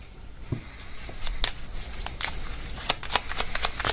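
Tarot cards are shuffled by hand in a quick run of crisp riffles and rustling flicks, close and fairly loud, with no talking.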